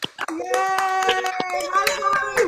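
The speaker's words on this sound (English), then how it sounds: "Let's unmute everybody and clap for these amazing artists." Scattered hand claps from an online audience at a virtual songwriters showcase, patchy and uneven over a sustained tonal hum, with excited cheering voices mixed in.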